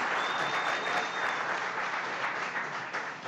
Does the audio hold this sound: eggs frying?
no